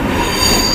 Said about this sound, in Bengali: আমাদের ট্রেন কিন্তু এখন খিদিরপুর স্টেশন ছেড়ে দিল